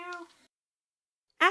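A cat gives a short meow, then after a pause of silence a second, louder meow follows up close.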